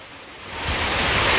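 A steady broadband hiss of village rain that swells louder partway through, continuing without pause and with no voices.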